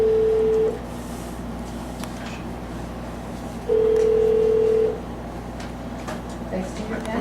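Teleconference call being placed: two long steady telephone tones sound, a brief one at the start and a longer one a few seconds later, over low room hum and faint background noise.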